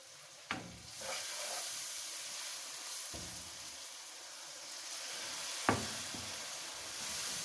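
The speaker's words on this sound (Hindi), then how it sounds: "हम मसाले को अच्छे से भून लेंगे।" Spice masala for dal mash frying in a pan, giving a steady close sizzle and hiss, broken by a couple of sharp spoon knocks against the pan and some stirring.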